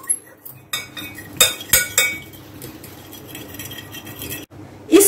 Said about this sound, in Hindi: इस सॉस को तकरीबन हमने 2 मिनट के लिए बीट किया है